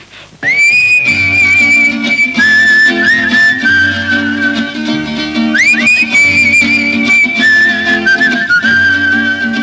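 A person whistles as a signal in a forest-set Hindi bandit action film, a loud, sustained high whistled tone that swoops and repeats in bursts over a continuous musical backing, with no talking.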